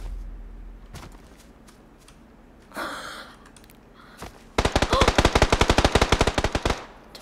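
Video game gunfire: a long rapid burst of automatic weapon shots, loud and close, following a quieter stretch with a faint breathy sound and a single earlier shot.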